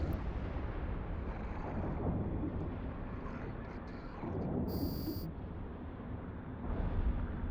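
Ship weapons fire at pirate ships in the space game EVE Online, a dense, rumbling barrage of booming shots that runs steadily throughout, loud and continuous with no talking over it.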